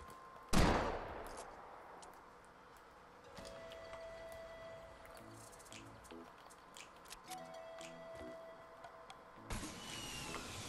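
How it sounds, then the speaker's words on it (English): Video game gunfire in Fortnite: a sharp loud shot at the start, then scattered quieter shots and clicks with other game sounds, ending in a burst of rapid fire, with voices chatting over it. "Just keep shooting at him"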